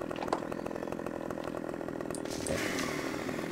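A saw in the farming video game Farming Simulator 15 runs with a loud, continuous motorized buzz, like a chainsaw, steady throughout and briefly rising in intensity near the end, with no talking.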